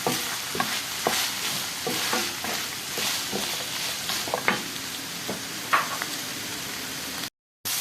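Chopped onion sizzles and fries in a pan while being stirred, with a steady hiss and a series of scraping stir strokes, ending in a brief cut.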